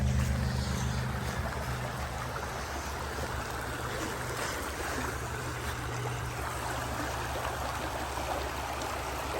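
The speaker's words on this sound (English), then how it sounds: "Let's check out the creek this morning." A creek running full after a week of rain, a steady broadband rush of flowing water with a low hum beneath, continuous and fairly close throughout, with no voices.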